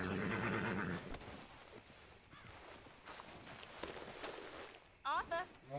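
Horse in Red Dead Redemption 2, with snorting and hoof clops under game music and speech, then a sharp whinny near the end.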